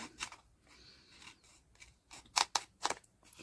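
Scissors snip through paper while cardstock quote journaling cards and labels are cut out, giving a few faint cuts followed by several louder, crisp snips close by, separated by quiet pauses.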